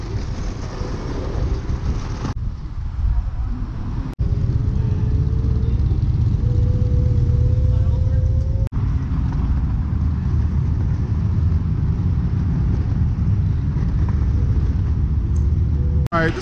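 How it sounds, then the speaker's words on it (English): Low, steady engine rumble from inside a car creeping through heavy traffic, constant and close throughout, with a faint whine rising midway and brief cuts in the sound. "This traffic ain't no joke today."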